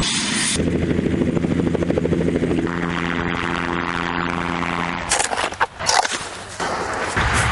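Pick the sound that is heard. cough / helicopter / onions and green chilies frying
helicopter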